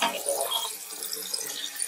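Tap water pours steadily over colour-changing Cars toy cars such as Mater and Doc, a continuous close splashing hiss with no pauses.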